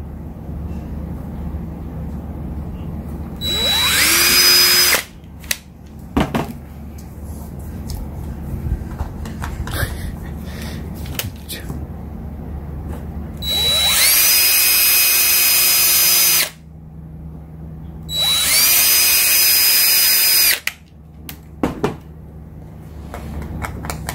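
A power tool tightens a nut and washer while installing a LED rock light on a 2020 Land Cruiser, three loud whining bursts of a few seconds each, separated by quieter clatter and handling noise.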